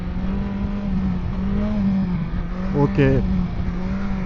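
A 2025 BMW S 1000 XR motorcycle engine runs held in second gear, a steady close-up drone that swells slightly near the end, with a brief spoken word over it.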